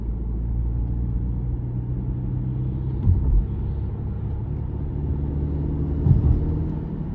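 2023 Subaru Ascent Limited with its 2.4-litre turbocharged four-cylinder pulling hard under acceleration in manual mode, a steady low engine drone heard from inside the cabin with two brief louder surges and no talking.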